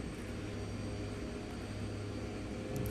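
Steady aircraft engine drone in the X-Plane 11 flight simulator as the throttle is eased up, a continuous low hum holding level throughout with no talk.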